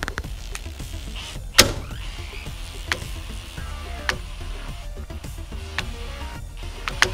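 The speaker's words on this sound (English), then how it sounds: "I think the gears are skipping teeth on this middle ring where they're really small" Under load, the 3D-printed gears of a 160:1 gearbox whir mechanically, with sharp clicks and knocks at irregular intervals as teeth skip, one loud snap standing out early on.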